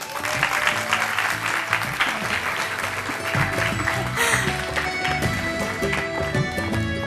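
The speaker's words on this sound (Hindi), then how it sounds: "आपकी भरपूर तालियों में तशरीफ़ लाती हैं" A television studio audience claps loudly and continuously as a guest is welcomed onto an entertainment show, with music playing underneath throughout.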